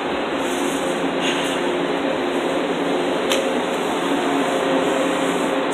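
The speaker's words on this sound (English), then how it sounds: "So it looks like we're going to have this old train today." A constant mechanical rumble and hiss like an old train running, with a couple of brief metallic clanks, no voices.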